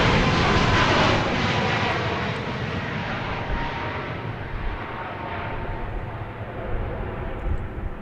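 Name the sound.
airplane taking off from Dallas Love Field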